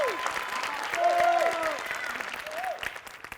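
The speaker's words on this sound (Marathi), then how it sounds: "श्यामसाठी एकदा जोरदार टाळ्या" A studio audience gives a sustained round of applause for Shyam Bangar at a Marathi comedy show, steady clapping for a few seconds with some whistle-like vocal sounds rising over it.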